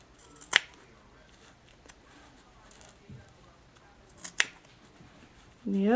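Scissors snip through quilted fabric for a small zippered pouch, giving two crisp, close cuts a few seconds apart amid quiet room noise.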